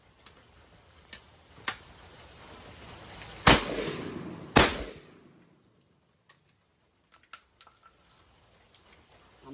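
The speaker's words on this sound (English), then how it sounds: "I'm gonna shoot my Stoger Coach gun today, 20-inch barrels" A Stoeger 12 gauge double-barrel coach gun with 20-inch barrels, two loud close shotgun blasts about a second apart, each with a short echoing tail, surrounded by faint clicks and handling noises.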